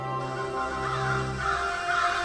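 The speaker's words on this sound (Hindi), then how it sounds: "तभी उसे कुछ कौवे की आवाज सुनाई देती है" Crows caw in an animated cartoon scene, several harsh calls overlapping for about two seconds over a sustained tonal music bed, loud and close, with no talk.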